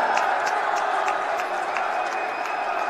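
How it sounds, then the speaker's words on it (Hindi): A large crowd at a Rajasthan election rally claps and cheers to welcome Narendra Modi, a dense, loud, continuous roar with voices mixed in. "अभिनंदन के तालियों के साथ में सभी अपने स्थान पर खड़े होकर जोरदार स्वागत और अभिनंदन करें"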